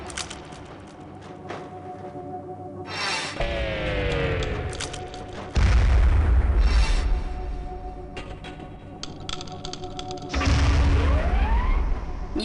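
Explosions in the shooter Gunman Chronicles as a thrown detonator core goes off: two heavy booms several seconds apart, each cutting through ongoing game noise with a deep rumble, plus whooshing and descending tones in between.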